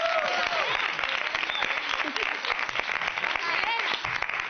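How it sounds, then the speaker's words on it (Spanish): Audience applause for a performer playing Mary Magdalene at a Celebración de los locos festival, a steady dense wash of clapping heard close and loud throughout, with crowd noise and voices mixed in. "Por favor, un aplauso a la Magdalena, que la tenemos aquí"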